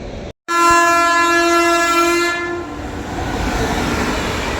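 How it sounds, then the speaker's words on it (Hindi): The 12724 Telangana Superfast Express sounds a long, loud horn blast up close, then roars past with a rushing, rumbling wash of rail noise that fills the rest of the clip. "सामने से आ रही है 12724 Telangana superfast express Prayagraj special को ओवरटेक करने"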